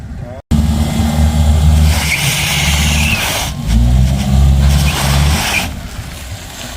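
A smaller car's engine revs hard and steadily as it pulls a larger stuck vehicle free in Wanica, Suriname. The deep, loud drone holds after a brief cut, then surges again.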